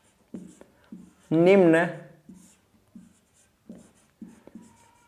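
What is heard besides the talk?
writing a question on the board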